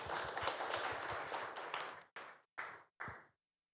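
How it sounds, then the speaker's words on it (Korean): An audience at a school event claps steadily for about two seconds, then a few separate final claps trail off into silence, all fairly quiet and with no talking. "박수 보내주시죠."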